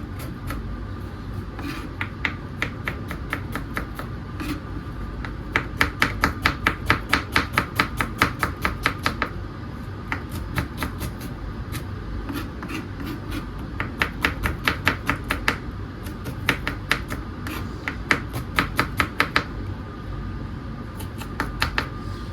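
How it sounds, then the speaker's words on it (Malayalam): A kitchen knife chops shallots finely on a board for a tempering, quick rapid bursts of crisp tapping strokes repeating in clusters against a steady background hum, close and clear. "താളിക്കാനുള്ള വറവിടാനുള്ള ചീരുള്ളി കട്ട് ചെയ്തെടുക്കട്ടോ"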